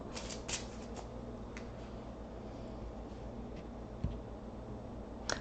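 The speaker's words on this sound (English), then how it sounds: "Okay, I'm going to shuffle this up." A tarot card deck being shuffled by hand, giving soft papery riffles and light flicks at a steady low level over a constant background hum, with a couple of sharper snaps near the start and end.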